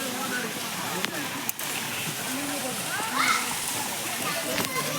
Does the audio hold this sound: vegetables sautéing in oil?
no